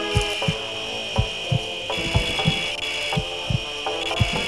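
Rhythmic sawing strokes from a bone saw during a surgery in the video game Surgeon Simulator, about eight rasping back-and-forth strokes over a steady mechanical hum, close and fairly loud.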